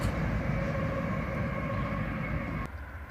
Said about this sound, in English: it was just a consist of two locomotives running light power